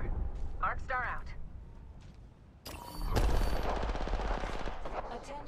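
Rapid automatic gunfire in a video game fires at an Arcstar, starting abruptly after a short stretch of game voice chatter and continuing as a loud, dense, sustained burst.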